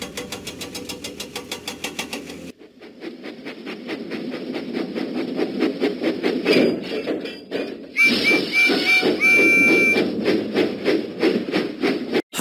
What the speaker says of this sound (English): Huffing and puffing, Percy set out for the steamworks